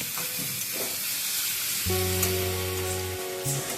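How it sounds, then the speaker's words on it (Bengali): Squash fries with onion and tomato in a pan, giving a steady close sizzle and hiss. Partway through, a sustained humming tone with harmonics enters over the frying noise. "এবার আমি পেঁয়াজ টমেটোর সাথে কিন্তু স্কোয়াশটাও ভেজে তুলে নিচ্ছি"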